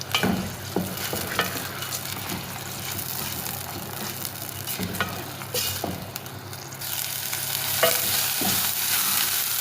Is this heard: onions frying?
yes